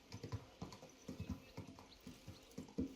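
Horse hooves clip-clop along a road in the video game Kingdom Come Deliverance II, a quiet, irregular rhythm of soft thuds at walking pace, faint and without speech.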